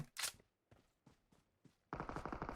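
Gunfire in a multiplayer shooter video game comes as a few sharp, separate shots, then a denser burst of rapid fire near the end, fairly quiet overall with no talk.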